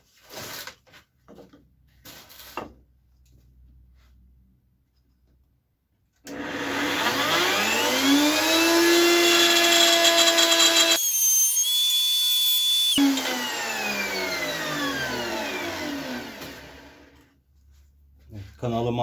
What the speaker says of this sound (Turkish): Arkadaşlar freze yardımıyla açacağım bu kanalı.